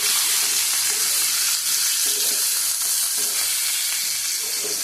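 Pumpkin, potato and pointed gourd frying in a pan with salt and a little turmeric give a steady, close, loud sizzle with no break, while faint scrapes of stirring come through now and then.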